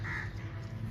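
A harsh crow caw rings out near the start over a steady low rumble, then fades into background noise.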